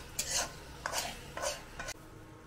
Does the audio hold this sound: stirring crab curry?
yes